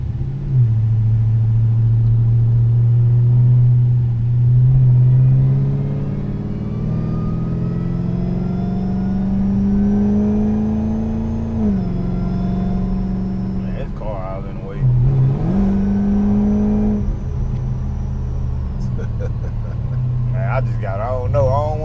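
A 1200+ horsepower Dodge Hellcat with a Hemi engine drives steadily, its deep engine drone rising and falling in pitch through gear changes, loud and close throughout.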